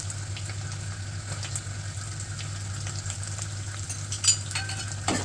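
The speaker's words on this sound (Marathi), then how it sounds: "त्यामध्ये आपण कापलेला कांदा घालावा" Chopped onion fries with garlic in a pan for mutton masala, a constant close sizzle with occasional stirring scrapes and light clinks of utensils against the pan, and no one speaking.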